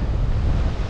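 Sea waves washing onto a beach at Cambrils, a continuous rushing surf wash heavily mixed with wind buffeting the microphone, loud and close, without speech.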